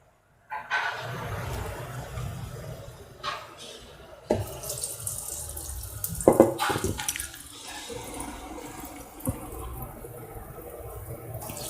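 Spinach and black-eyed pea fritter batter goes into hot oil in a kadai for deep frying, a steady crackling sizzle that starts abruptly and carries on close up, with sharper pops as more batter drops in.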